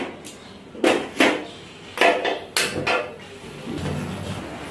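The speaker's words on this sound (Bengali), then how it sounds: "জল দিয়ে আমি ঢাকনাটা লাগিয়ে দেব।" A metal lid set onto a cooking pot of water on a home kitchen stove, giving several sharp clattering knocks close by, scattered over a few seconds with low room noise between.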